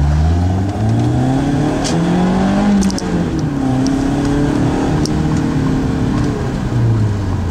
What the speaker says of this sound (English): Does pull first gear to second gear up to 40 miles an hour.